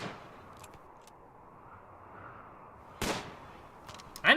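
Gunfire from a colonist in RimWorld: a single sharp close shot stands out over a steady low background, followed by a louder burst right at the end.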